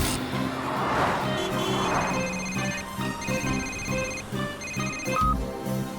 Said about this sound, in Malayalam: ആ ഫോൺ റിംഗ് ആവുന്നുണ്ട്.